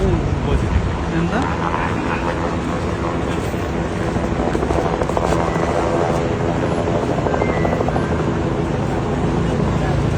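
A rescue helicopter flies over a flooded area, its loud steady rotor thrum and engine roar filling the scene continuously, with a voice talking underneath.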